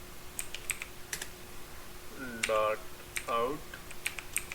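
Java code being typed on a computer keyboard gives scattered, quiet key clicks in short bursts, mixed with someone speaking softly.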